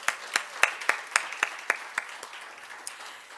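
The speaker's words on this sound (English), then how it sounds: "I think we should give them a round of applause." A small audience at a Women's History Month celebration claps sparsely, a dozen or so distinct, evenly spaced claps at close range that grow fainter and thin out toward the end.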